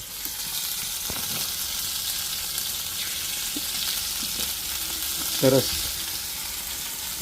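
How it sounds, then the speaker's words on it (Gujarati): Ginger-chili paste hits hot oil with cumin and garlic, a loud, steady close-up sizzle that runs throughout, with a few faint stirring clinks and a single brief spoken word. "ને હવે નાખી દઈશું આદુ મરચાંની પેસ્ટ"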